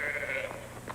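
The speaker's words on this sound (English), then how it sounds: "No, those are sheep." Sheep bleating, one long wavering call followed by a shorter second bleat, fairly close and clear, in a comedy scene.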